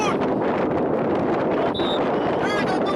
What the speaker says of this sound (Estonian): Nüüd on tugev tuul, näe!